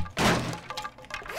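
A weapon strikes wood in a zombie survival video game: one loud, close thunk with a splintering crack, followed by fainter clatter and rustle.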